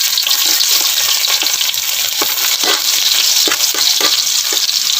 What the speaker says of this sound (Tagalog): Now if the oil is already hot, let us now soak the garlic.